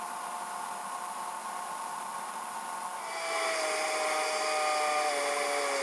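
A small airplane's engine roars steadily at full power, rising in pitch and intensity partway through as throttle is added, a loud continuous drone near the cockpit during an aerocross flight course.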